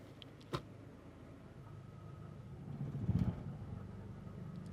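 A Subaru engine fitted with a TR690 CVT idles in drive just after a fluid refill, a steady low rumble with a short sharp knock early on and a brief swell of bogging load midway, fairly close and without talk.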